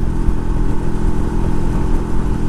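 A 500cc touring motorcycle engine drones steadily while riding, with a buzzy mid-pitched hum and wind rush that stay at an even, close, loud level throughout, with no talking.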